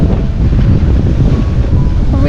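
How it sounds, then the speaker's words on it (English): Steady wind buffets the microphone over a low wash of sea swell of about one metre aboard a cruising sailboat under jib in New Zealand, in a wind of around 10 knots. The roar is loud and continuous. "Wind sitting about 10 knots."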